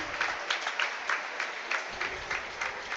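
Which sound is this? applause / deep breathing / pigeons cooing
applause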